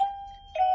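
A smart doorbell chime sounds when its button is pressed: a clear electronic tone holds, dips, then a second brighter note rings out, close and alone.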